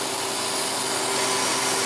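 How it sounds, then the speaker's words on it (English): Vacuum being released from a Harvest Right freeze dryer, a steady, loud hiss of rushing air that holds constant for the whole stretch with no talking. "release some of this vacuum so we can open this up and see how it works"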